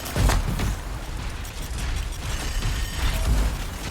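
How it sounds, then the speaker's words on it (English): Explosions in Anthem during a melee Interceptor fight: heavy low booms thud at intervals near the start, middle and end, amid a rumbling, crackling battle wash. "Maybe these explosions will hurt."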